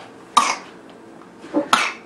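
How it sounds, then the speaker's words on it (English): Two short, sharp coughs from someone at home, spaced over a second apart, close by in a quiet room. "Oh, cough, cough."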